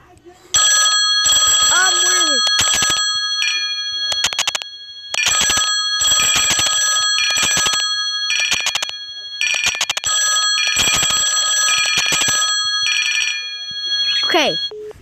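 A phone rings insistently with a loud electronic ringtone: repeated bursts of bright chiming tones separated by brief gaps, plus a couple of rising warbles, filling the space up close.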